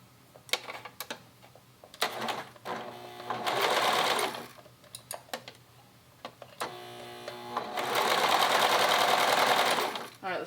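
A home sewing machine stitches fabric for a cardigan in two long, close, whirring runs, separated by scattered clicks and short handling taps, with a voice briefly audible.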